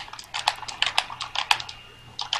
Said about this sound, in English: somebody's typing sounds super clear